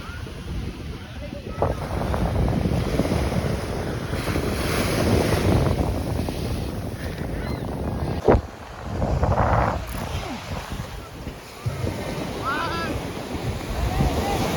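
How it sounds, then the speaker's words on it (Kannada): Sea waves rolling onto Kannur beach in Kerala, a steady wash of surf with wind buffeting the microphone throughout and a brief sharp knock partway through. "ಅಲೆಗಳಂತೂ ಸರಿಯಾಗಿ ಬರ್ತೈತೆ."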